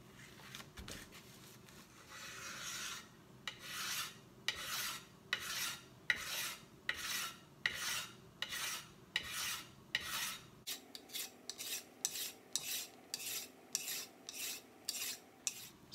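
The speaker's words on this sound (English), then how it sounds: "scrapers are really helpful" A card scraper smooths the wooden handle of an Ochsenkopf Iltis Model Canada 1000g axe in steady rhythmic strokes, each a dry rasping scrape, speeding up into shorter, quicker passes near the end, close up with no talking.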